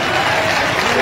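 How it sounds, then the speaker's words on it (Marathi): A crowd at an outdoor meeting in Antarwali Sarati claps loudly and densely for the sound system, a brief, steady burst of applause with voices mixed in. "साऊंड सिस्टीम साठी एकदा जोरदार टाळ्या वाजवा"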